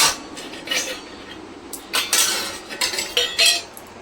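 Rice is served at home with metal utensils and dishes, making scattered clinks and scrapes that bunch into louder, quick clatters toward the end. No one speaks.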